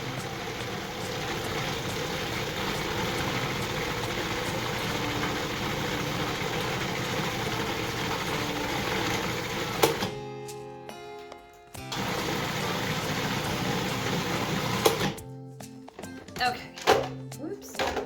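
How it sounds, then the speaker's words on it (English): An electric food processor or grinder runs steadily, churning pumpkin flesh into puree, with a continuous motor whir that cuts out briefly twice and then resumes in short uneven bursts. "I'm going to just keep dropping handfuls of the flesh into the hopper"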